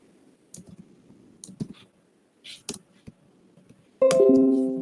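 Computer keyboard keys clicked in a few scattered bursts, with a single press of enter while searching in a security reconnaissance tool, followed by a louder steady tone near the end.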